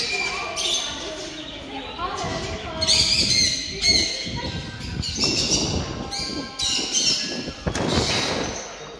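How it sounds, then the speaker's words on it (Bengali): Parrots at a bird market in Dubai, a dense mix of shrill squawks, chirps and whistles from many caged birds, nearby and loud, with people talking among them. "অনেক সুন্দর সুন্দর পাখি দেখেন কি কিচমিচ হইচই শুরু করছে এদের ভিতরে"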